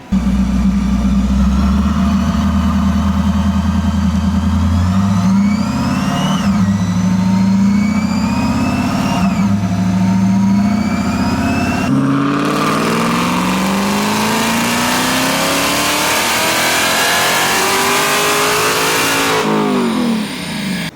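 A modified car engine with stage 1.5 mods revs hard through a Dynojet dyno pull, loud and close, its pitch sweeping up through the gears in several rising pulls and then climbing into a sustained high scream before easing off.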